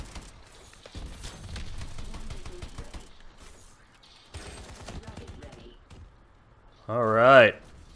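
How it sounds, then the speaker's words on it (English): Call of Duty: Advanced Warfare gunfire crackles in rapid bursts at moderate level, broken by quiet gaps, with someone talking over it and a louder swelling burst near the end. "Who's fucking shooting at me?"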